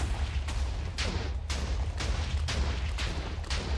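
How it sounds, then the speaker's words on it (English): TNT blocks detonate in Minecraft in a regular series of booms about every half second, each a sharp burst over a constant low rumble, loud and close with no talk. "if you look at the bottom of those explosions, you'll see that the TNT doesn't actually hit the flooring"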